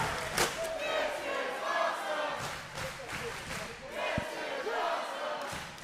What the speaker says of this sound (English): I have a hard time getting behind the crowd saying this is awesome, this is brutal, this is violent